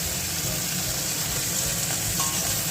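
Pointed gourd and okra frying together in a pan for a mixed fry, giving a steady, close sizzle with soft stirring sounds and no voices over it.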